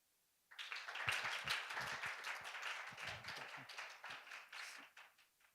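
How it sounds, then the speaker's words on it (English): Applause from a conference audience welcoming a speaker at an AI summit, starting abruptly and holding as dense, steady clapping before thinning out toward the end. "Please welcome him with a big round of applause."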